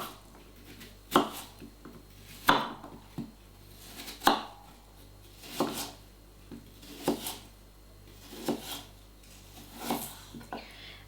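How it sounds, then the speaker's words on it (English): A knife slices a quarter thinly on a cutting board, likely apple for pork, apple and cheese pasties, making about eight crisp, evenly spaced chops close up against quiet room tone. "Then you want to take your quarter and slice it thinly."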